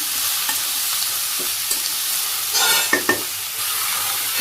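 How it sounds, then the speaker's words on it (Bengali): Vegetables with salt, turmeric and dry chili powder sizzle loudly in a hot pan, with a few sharp scrapes and knocks of a spoon stirring them through a steady frying hiss. "লবণ দিয়ে দিই পরিমাণ মতো, আর হলুদের গুঁড়ে, শুকনো মরিচের গুঁড়ে, নেড়ে চেড়ে রান্না করে নিই"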